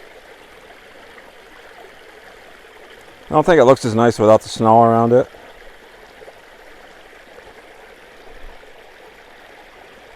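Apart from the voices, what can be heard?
small waterfall in a forest ravine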